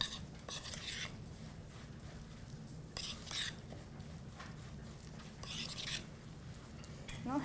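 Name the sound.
stirring chocolate chips into a mixture in a bowl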